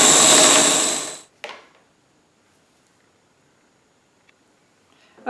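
A blender whirs at full speed, pulping pinecone paper mixture, loud and steady for over a second before cutting off abruptly, followed by a brief clunk and near silence.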